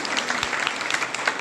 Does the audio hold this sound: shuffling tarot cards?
no